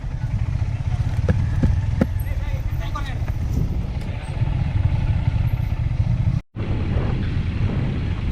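A motorcycle drones steadily along a forest road toward Thanchi, a close, continuous engine rumble with bumps and rattles, heard under someone talking.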